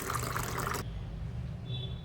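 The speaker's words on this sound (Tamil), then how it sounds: "ரொம்ப திக்காக இருக்கிறதுனால தண்ணி சேர்த்துக்கிறேங்க" Water poured into thick homemade grape juice in a kitchen, a brief splashing pour that stops suddenly and gives way to quiet room noise.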